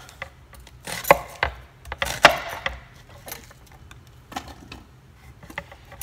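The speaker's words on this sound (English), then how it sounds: "And I'm gonna go ahead and cut my onion up." A knife chops an onion on a board in a home kitchen, giving a scattered series of sharp, close cuts and taps at uneven intervals over a quiet background.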